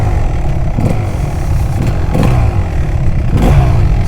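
A Kawasaki KX250 two-stroke enduro dirt bike is ridden along a wooded trail, its engine loud and close, rising and falling with throttle and rattling over rough ground throughout.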